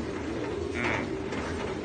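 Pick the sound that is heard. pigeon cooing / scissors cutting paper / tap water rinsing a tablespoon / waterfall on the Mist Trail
pigeon cooing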